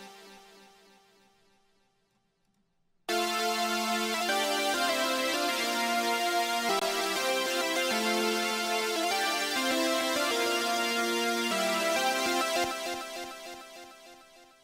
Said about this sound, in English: So for this, it's just a simple synth, once again with Serum. Two saw waves